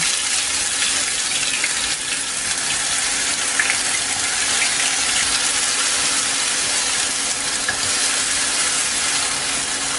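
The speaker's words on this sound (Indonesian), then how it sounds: "Kita akan tumis bumbunya sampai nanti aromanya itu harum banget" Ground spice paste sautés in hot oil in a wok, giving a steady, close hiss and crackle that continues evenly throughout without talking.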